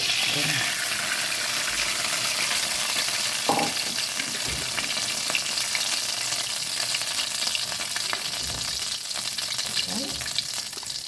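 Prawns fried earlier leave their oil, now sizzling and crackling steadily in a pan for devilled prawns, a dense continuous fry with occasional clinks of stirring and no talking.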